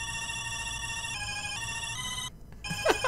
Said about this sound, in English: total side note regarding the phone going off